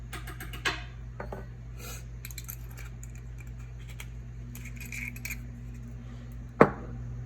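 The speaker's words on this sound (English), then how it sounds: "So literally just going to spoon" A spoon scooping chunky glitter into a UV resin mould: faint, sparse clicks and light scraping ticks over a steady background hum, ending with one sharper clink near the end.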